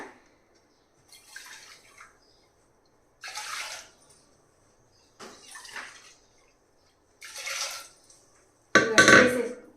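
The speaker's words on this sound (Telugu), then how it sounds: "ఇదిగోండి కుక్కర్లో వేస్తున్నానండి నీళ్ళు" Water poured into a pressure cooker in a kitchen, heard as four separate splashing pours with pauses between them, ending in a louder, fuller gush.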